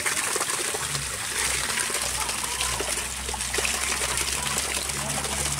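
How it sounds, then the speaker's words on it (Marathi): A small mountain spring near Ramgad Fort in Mahur trickles and splashes steadily, close by and continuous, with faint voices in the background. "या ठिकाणी आपल्याला झरणा दिसलेला आहे छोटूसा"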